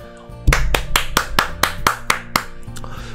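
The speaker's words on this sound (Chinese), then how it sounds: "我真的是必须给紫罗兰一个掌声" Hand clapping as applause: about a dozen sharp, loud claps in a steady, slightly uneven rhythm, close by, with no speech over them.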